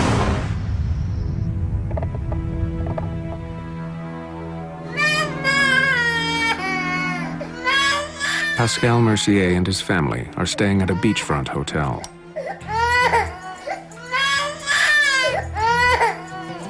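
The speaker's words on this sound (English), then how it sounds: "My daughter woke up suddenly screaming like hell, screaming like if something happened" A young girl wakes up screaming and crying in a beachfront hotel room, with loud sobbing wails in repeated bursts that come after a narrator's voice.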